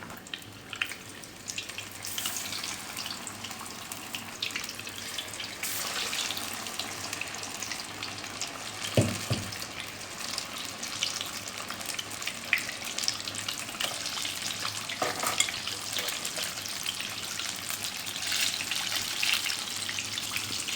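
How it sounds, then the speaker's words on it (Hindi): Thinly coated fish pieces fry in oil over a medium-low flame, Lahori style, with a continuous close sizzle and occasional sharper pops and crackles throughout. "ये देखें फ़िश हमारी फ्राई हो रही है"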